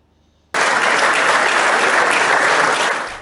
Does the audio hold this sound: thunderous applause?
yes